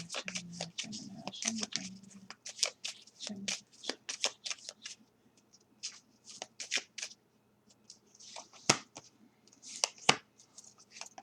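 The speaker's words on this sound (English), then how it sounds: "I'm going to draw 2 cards for the end of this week." A tarot deck is shuffled and cards are drawn, giving a run of quick papery riffles, flicks and soft slaps close by, with brief murmured speech early on.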